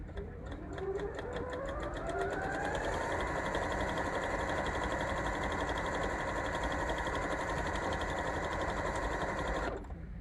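A sewing machine runs steadily, stitching fabric along a fusible grid at a quarter-inch needle position. The motor hum builds up to speed, holds a fast, even whir for several seconds, then stops abruptly.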